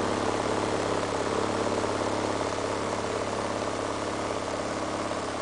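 A small neorotor motor fitted with a Rodin coil spins at higher revs, giving a steady buzzing whir with a fine rapid pulse and a low hum, continuous and close throughout.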